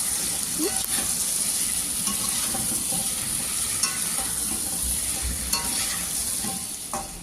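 Potatoes and eggs fry in a pan with a steady, close sizzle that continues throughout, broken by occasional small clicks and pops.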